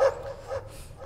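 A dog gives a few short, close barks and yips in quick succession in an indoor setting, with no talking over them.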